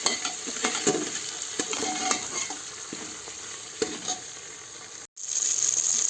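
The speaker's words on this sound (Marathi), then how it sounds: "त्या मसाल्यांबरोबर आलं लसूण पण भाजून निघतं" Ginger and garlic fry with spices in a pan for masala rice, with repeated spoon scrapes and taps over a steady, close sizzle that cuts out briefly near the end.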